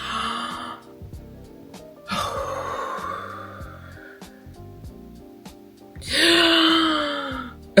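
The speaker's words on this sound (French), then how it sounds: "Vous voyez la respiration là?" Deep, drawn-out breaths during a breathing exercise: close, airy inhales and long exhales come in three separate passes with quiet pauses between them, and the last one is the loudest.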